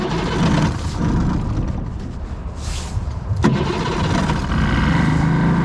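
A small boat engine is started in cold weather, cranking, then catching and running close by at a rough, uneven idle, with a sharp click partway through.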